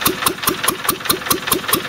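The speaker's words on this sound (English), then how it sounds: "It's doing probably 800 RPM with the other pulley on the dynamo." A Conord stationary engine driving a DC dynamo by pulley runs steadily at roughly 800 RPM, giving a regular, even thump about five times a second with a constant hum, close up and alone.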